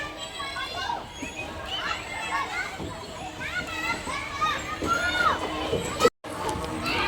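A crowd of children plays noisily in a garden in the evening, with shrill shouts, squeals and chatter from many kids near and far, plus footsteps and adult voices mixed in continuously.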